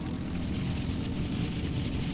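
Steady, loud droning of a propeller-driven fighter's engine in the Cliffs of Dover flight game, a continuous roar with no breaks, heard alone as the plane is pulled out of a stall.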